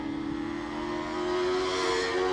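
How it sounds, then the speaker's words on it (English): Hillclimb race car leaving the line at Doune, its engine revving in a steady high drone that rises in pitch and grows louder as it accelerates away, with no talk. "that car sounds really nice. That engine revving away."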